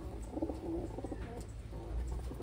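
A large pigeon gives a few soft, low cooing calls close by, with faint background noise and no talking.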